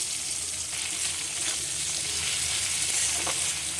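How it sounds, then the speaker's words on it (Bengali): Chopped onions sizzle in hot oil with asafoetida and whole spices, a steady, dense frying hiss with faint stirring scrapes, close and continuous with no talking. "পেঁয়াজটাকে ভেজে নেব।"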